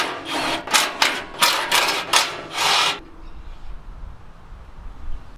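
Ratchet working 13mm bolts loose from the bottom bash plate of an NP300 with an Ironman bar, a rapid run of dry clicking bursts for about three seconds, then a quiet workshop.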